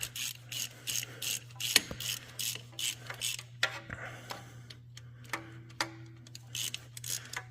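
A hand ratchet tightens a 15 mm grade 8 mounting bolt on a bracket for a 2014-or-newer GM LS V8 engine, giving repeated close clicking strokes in short bursts, with a low steady hum behind it.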